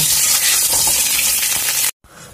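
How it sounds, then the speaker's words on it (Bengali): Duck eggs fry in hot oil in a pan with a loud, steady sizzle that stops abruptly near the end, leaving a softer background. "ডিমগুলো আবার ভেজে নেওয়া হয়ে গেছে, লাল লাল হয়ে গেছে।"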